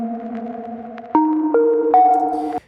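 A bright synth pluck plays dry with no reverb tail, a short melodic run of sustained tones that step up in pitch, loud and close, alone without talk.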